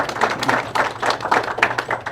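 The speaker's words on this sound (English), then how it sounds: "can we give Ken another round of applause?" An audience applauds the speaker Ken after a history presentation at Miners Hall in Franklin, Kansas. The clapping is close and loud, with a steady run of overlapping claps.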